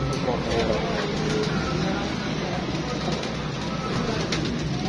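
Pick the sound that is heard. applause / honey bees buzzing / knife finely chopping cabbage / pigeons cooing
pigeons cooing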